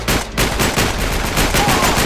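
Rapid bursts of machine gun fire in the video game Uncharted 3, loud and close, with repeated sharp reports crowding together and barely any pause between volleys.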